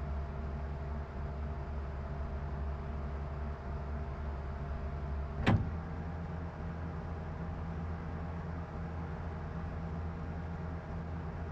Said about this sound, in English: Now, move the throttle away from you to start the train moving.